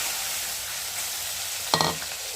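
Tilapia frying in hot oil in a kitchen pan, an even sizzling hiss broken near the end by a brief burst of louder spattering crackles.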